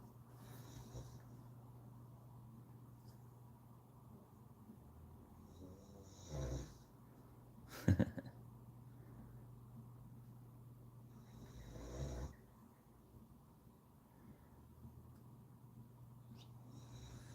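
A person snoring in a quiet room, a few heavier snorts breaking through every few seconds over a steady low electrical hum.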